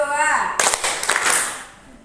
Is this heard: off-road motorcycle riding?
no